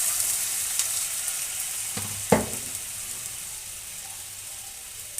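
Water hits a hot, preheated frying pan while kulcha is cooked, bursting into a sharp hiss that jumps up and then fades into a steady, quieter sizzle, close by with no voices.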